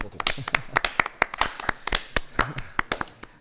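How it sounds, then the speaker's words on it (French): Sharp, irregular handclaps from a small group ring out close by in a quick, uneven patter. "Applaudissements pour Théo. Allez, on envoie pour Théo."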